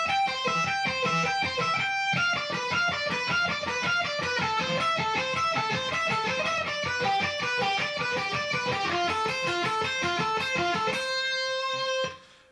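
Electric guitar sweep-picking a sequence of triad arpeggios, rapid continuous runs of clean single notes ascending and descending for about eleven seconds before a final held chord rings out and fades, with no talk.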